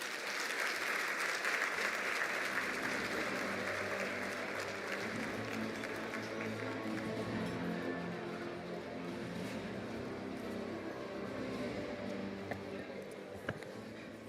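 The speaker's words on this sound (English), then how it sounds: "I'd love to give a big round of applause to all of tonight's honorees" Sustained applause from a large audience at an awards event honoring award recipients, steady clapping filling the room for the whole stretch, with a few louder claps near the end.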